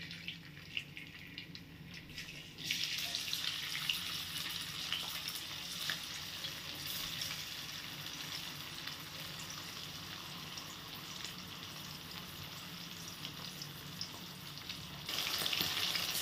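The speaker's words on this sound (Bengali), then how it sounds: "এবার এই একই তেলের মধ্যে আমি এই প্রনগুলোকে ভেজে নেব।" Prawns frying in the same hot oil used earlier for chicken, being cooked for homemade mixed chowmein, give a steady close sizzle that swells in loudly after a quiet start and holds with no talking.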